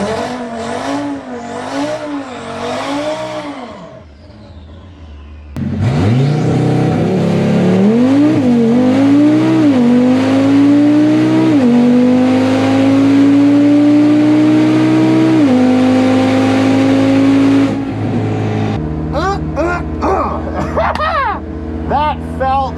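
An Audi RS3 with a Unitronic tune launches on a drag strip, its engine revving loud and close, climbing through several gears with crisp shifts for about thirteen seconds before cutting off, with a brief idle and rev before the run.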